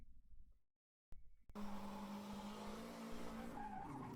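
In a racing video game, a car skids as the handbrake is pulled, producing a sustained tire squeal over engine noise after a brief cutout, fairly faint overall and without talk.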